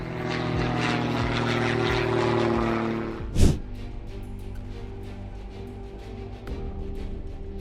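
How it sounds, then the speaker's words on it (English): Propeller engine of a Stinson light airplane from British Columbia, Canada, making a short-field takeoff near trees: a steady droning roar, loud at first then easing, with one sharp burst partway through. "A Stinson registered in British Columbia, Canada, narrowly escapes the grab of trees on short field takeoff."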